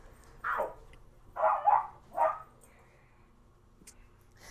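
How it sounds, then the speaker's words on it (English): Beagle puppies barking close by, three loud yelping barks in quick succession followed by a quieter stretch with faint background noise. "But my God, are beagles loud."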